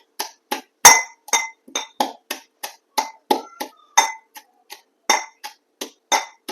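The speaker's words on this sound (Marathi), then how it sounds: "असा बटाटा मी इथं खलबत्त्यात टेचून घेतलाय" Potatoes are crushed in a stone mortar with a pestle, giving about twenty sharp, separate pounding knocks in a steady, slightly uneven rhythm, close and clear against silence.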